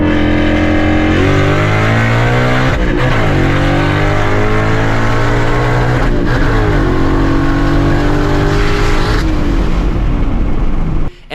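A Whipple-supercharged S650 Mustang GT with an MT82 manual transmission pulls hard in second gear, its engine roaring loud and close as the revs climb steadily, with brief dips in tone along the way and no talking.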